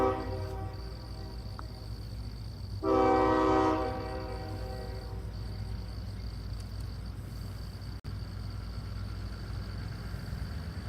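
A CSX local freight train sounds its horn once, a loud, sustained blast of about a second and a half, above a steady distant rumble of rail traffic at trackside in Dalton, Georgia.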